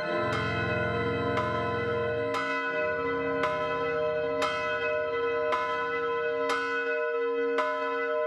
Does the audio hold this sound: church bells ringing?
yes